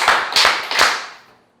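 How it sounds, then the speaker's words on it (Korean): Three loud claps from a church congregation at a Wednesday worship service, each a sharp burst of many hands together, spaced evenly about 0.35 seconds apart and then fading out in the room. "약간 박수 3번 치고 다시 시작해서 시작!"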